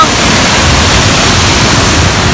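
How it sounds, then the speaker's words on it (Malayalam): Cheeyappara waterfalls in Idukki pour down hard during heavy rain, producing a loud, continuous, close-up roar of rushing water with no break. "ശക്തിയായിട്ട് വെള്ളം ഒഴുകിക്കൊണ്ടിരിക്കുകയാണ്."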